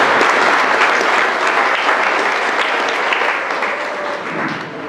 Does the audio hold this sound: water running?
no